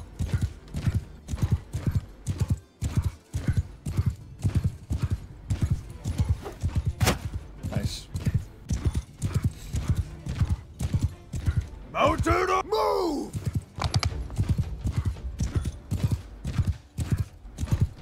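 Horse archers galloping in a Game of Thrones video game battle, rapid steady hoofbeats drumming throughout with a horse whinnying near the middle, under battle noise and a player's talk.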